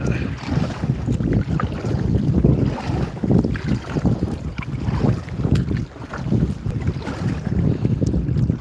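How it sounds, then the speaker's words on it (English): A boat being paddled through a channel on a lake, with a steady wash of water and boat noise under heavy wind buffeting the microphone, continuous and close, with no one talking. "Okay, so I'm paddling now in the channel."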